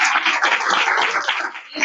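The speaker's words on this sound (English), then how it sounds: "So I also wanted everyone to give each other a round of applause." Audience at a transplant conference keynote in Atlanta applauds, a dense, steady wash of clapping filling the short stretch before it thins slightly at the end, with no speech over it.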